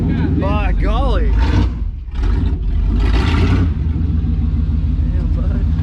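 A lowered truck's engine idles and rumbles loudly up close, with brief revving swells, under excited voices talking over it.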